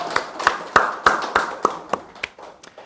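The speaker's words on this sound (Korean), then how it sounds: "우리 부모님께 감사의 박수를 올려주시기 바랍니다" A congregation at a Sunday worship service gives a round of applause, heard as about ten sharp, evenly spaced claps that gradually soften and fade, with no voices over them.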